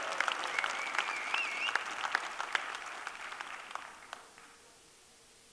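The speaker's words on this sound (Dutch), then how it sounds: "Even een applaus voor de jonge mensen." Congregation applause for the young people during a church service, a crowd clapping with scattered cheers and a whistle-like shout, sustained for several seconds before trailing off into near silence.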